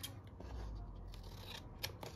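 Scissors cut a piece of paper close by, giving a quiet run of crisp snips and rustling over low room noise.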